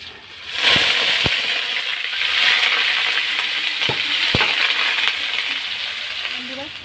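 Potatoes hit a pan of frying spice mix in a small shop kitchen, setting off a loud, steady sizzle with a few sharp knocks of pieces landing and scraping.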